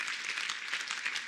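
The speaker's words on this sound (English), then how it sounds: "It's okay to clap on that one." Audience clapping at a school baccalaureate ceremony, a brief, faint spell of dense applause heard from a distance with no talk over it.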